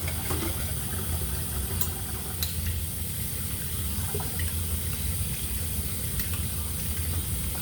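Tap water running into a kitchen sink while dishes are washed, a steady broadband hiss of flowing water with a few faint clinks, no talk.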